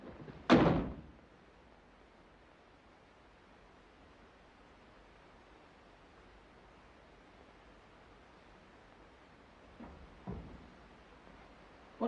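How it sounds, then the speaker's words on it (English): A door is shut with a single sharp, close thud near the start, followed by quiet hiss and a couple of fainter knocks toward the end. "I want to shut the door."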